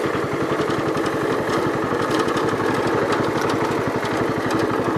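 The engine of a 1973 John Deere 110 lawn tractor while driving, a steady, close, fast-pulsing putter with a rattly mechanical edge, running without pause and with no talk.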